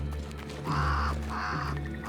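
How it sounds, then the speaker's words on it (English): A crow cawing in the video game Banishers: Ghosts of New Eden, two drawn-out, clear caws spaced about half a second apart over a low ambient hum, with no talking. "Did I see you talking to a crow just now?"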